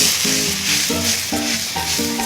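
Squid legs and kimchi stir-fried on high heat in a very hot pan, giving a loud, continuous sizzle with a rhythmic scrape and clack of the spatula. A few short tones sound under the frying, and no one speaks.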